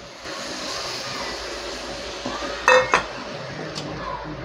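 A metal lid is set onto a cooking pot of dried fish (shutki) curry, giving a couple of sharp clinks and a short clatter over a steady background hiss.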